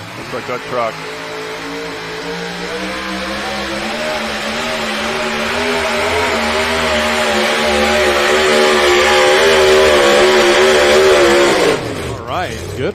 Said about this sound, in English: Chase Richardson and the Busch Light sponsored two-wheel drive truck.